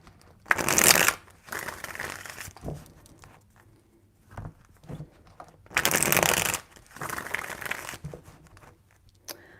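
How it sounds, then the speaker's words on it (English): Two bursts of card shuffling, each a rapid riffling patter about a second long, with softer handling noises and taps in between. "3 shuffles."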